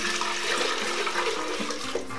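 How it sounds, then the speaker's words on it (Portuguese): Water pours steadily into a cooking pot while preparing Cape Verdean cachupa rica, a continuous rushing splash that stays close and fairly loud throughout, with no talking. "Vou botar um bocadinho de água. Dê naquele panela."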